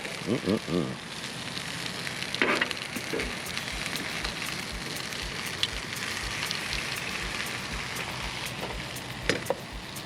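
Tomatoes and vegetables roasting over heat give a steady, close crackling sizzle with scattered pops and sputters, plus a few brief knocks at the start.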